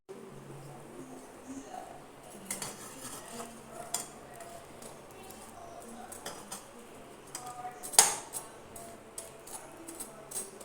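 Bread pieces roasting in ghee and turned in a pan, with intermittent utensil scrapes and clinks against the pan over a low background, one louder metallic knock midway.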